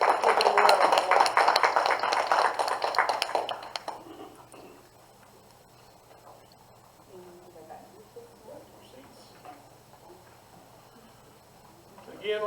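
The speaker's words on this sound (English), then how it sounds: "Give them a round of applause." A gathering applauds future educators at a signing ceremony with a burst of many hands clapping for about four seconds, then it fades into quiet room noise with small shuffles.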